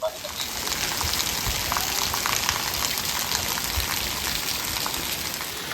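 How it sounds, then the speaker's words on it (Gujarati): Heavy rain pours steadily onto surfaces, a dense, even hiss of drops that holds at the same level throughout, with no voices over it. "તો અત્યારે અહીંયા વરસાદે કાળો કહેર વરસાવ્યો છે અને ખૂબ સવારનો વરસાદ ચાલુ છે."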